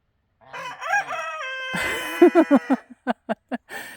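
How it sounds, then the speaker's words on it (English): A young rooster crows close by, a wavering rising call followed by a series of short, sharp clucking bursts in a steady rhythm. "It's the sweetest little crow."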